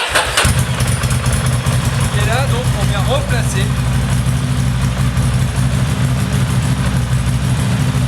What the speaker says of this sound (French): vous mettez en route donc votre moto